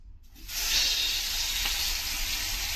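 Food hitting hot oil in a pan bursts into a loud, steady sizzle after a brief quiet start, the frying hiss holding strong and close until the end with no talk over it.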